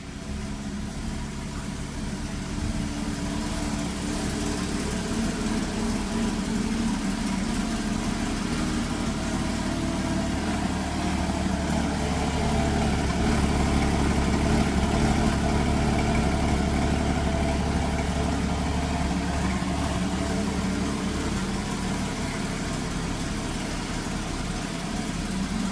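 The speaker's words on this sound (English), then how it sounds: "Here, I'll start it up and you can hear what it sounds like." A 2015 Porsche Cayman base model idles with a steady, even engine rumble that holds close and constant throughout, swelling slightly midway, with no talking over it.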